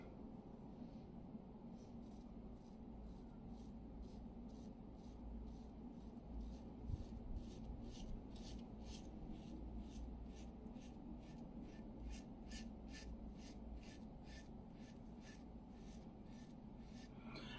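Razor strokes from a Fatip Lo Storto open comb safety razor scraping through lather, a steady run of faint repeated rasping passes close up with no talking.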